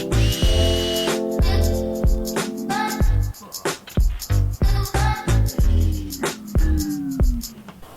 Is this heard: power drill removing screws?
yes